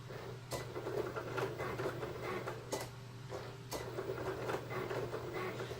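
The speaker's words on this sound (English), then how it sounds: "if you've never seen how a Cricut works before, that's what it's doing. It's just cutting out the vinyl." A Cricut cutting machine cuts out vinyl with a quiet, steady motor hum. Its carriage makes repeated small ticks and clicks as it moves, close by and low in level, with no one speaking.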